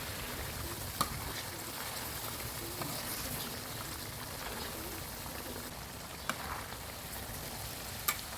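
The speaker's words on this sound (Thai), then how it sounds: "เวลาทอดเนี่ยเราก็ค่อย ๆ กลับไปเรื่อยๆ เป็นระยะระยะนะครับผม ใช้ไฟกลางในการทอดนะครับ" Steady, moderately quiet sizzling of pork ribs frying in a pan over medium heat, with a few faint clicks and taps of utensils now and then.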